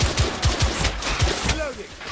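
Rapid gunfire in The Order: 1886 during a firefight, several sharp automatic bursts cracking in a steady rhythm through the whole stretch, loud and close over a busy battle background.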